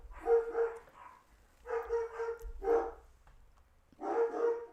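Dogs bark in short bursts of two or three, four clusters spaced across the stretch, moderately close and clear with no talking over them.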